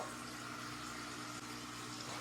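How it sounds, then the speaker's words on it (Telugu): Faint, steady rush of water pouring continuously into a water kettle, with no voices. "వాటర్ కెటిల్లో వాటర్ అంతా పెట్టుకున్నాను"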